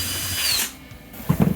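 A power drill boring a rivet hole through a Jeep Gladiator JT snorkel, a Flowmaster Delta Force cold air intake part, giving a brief, loud, steady whine that drops away, followed by a few knocks of handling.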